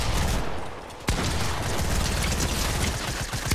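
Rapid bursts of gunfire from the Fortnite video game on the OG map, loud and dense, with a sharp blast near the one-second mark and continuous shots crackling throughout.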